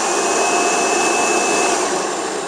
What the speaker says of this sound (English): Vacuum suction is great